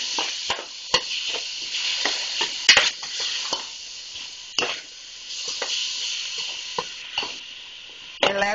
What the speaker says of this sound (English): And I just stir it around a little bit to cover it all.